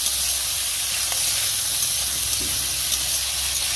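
Potatoes and drumstick (sajna) stalks frying in a pan give off a steady, soft hiss and sizzle, continuous and fairly quiet with no talk.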